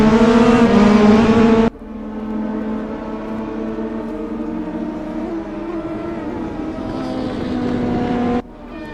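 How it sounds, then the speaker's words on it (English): DTM race cars scream past at the Nürburgring GP circuit, a loud high-revving engine wail that cuts off abruptly, then a steadier engine drone that builds before another sharp cutoff near the end. "The sound of these cars is amazing"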